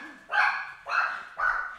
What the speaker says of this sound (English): It's even got the dogs going crazy.